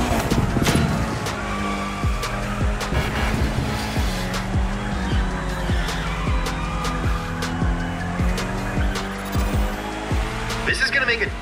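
A Mitsubishi Lancer Evo X drifts in The Crew Motorfest, its engine revving hard and rising through repeated shifts while tires squeal and skid loudly and continuously, with a few sharp bursts near the end.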